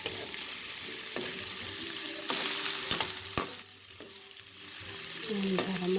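Bitter gourd (ampalaya) stir-fried in a pan, a steady sizzle broken by sharp scraping and clanking as a utensil mixes it, with a brief watery splash near the end.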